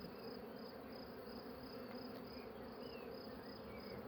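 Agitated honeybees buzz in a dense, steady drone around an opened frame from a drone-rearing hive, close and continuous with faint higher whines weaving through.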